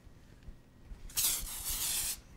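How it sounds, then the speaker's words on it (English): A mineral powder texturizing hairspray is sprayed onto styled curly hair in one continuous bright hiss lasting about a second, close up, with a brief pulse near its end and no talking. "This is a mineral powder texturizing spray"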